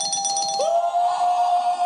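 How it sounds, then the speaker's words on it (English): A notification bell tone rings once. A bright chiming strike gives way to a clear sustained ring that sweeps slightly upward, then holds steady and loud, alone without talk. "that's exactly what it sounds like when you hit the bell"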